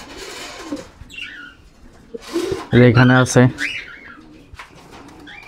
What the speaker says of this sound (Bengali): খুবই হিংস্র একটা কবুতর।